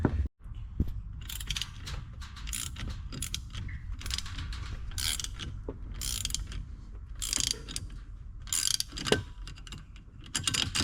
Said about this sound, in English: hold it still, and twist a wrench on here on the nut